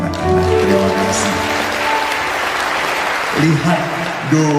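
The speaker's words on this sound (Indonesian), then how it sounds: "Tepuk tangan untuk anak-anak." A congregation applauds the children during a Catholic sermon, the clapping a broad, steady patter blended with sustained voices and music-like tones that swell again near the end.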